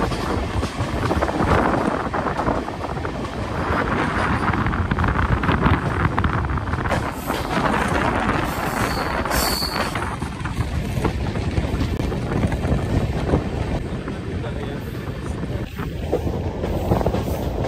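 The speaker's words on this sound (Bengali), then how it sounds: "টানেলের ভিতরে যাচ্ছে ট্রেন" The Kolkata Sairang Express train running through hills and entering a tunnel, a loud continuous rumbling roar with heavy rushing air noise throughout.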